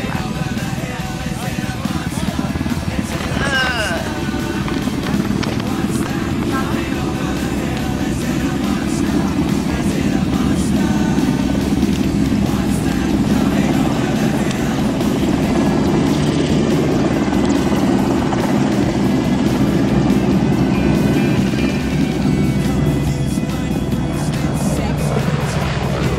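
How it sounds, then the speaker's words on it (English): A helicopter landing nearby: steady rotor and engine roar fills the scene, loud and continuous, with faint wind and rumble underneath. "We're watching the helicopter land."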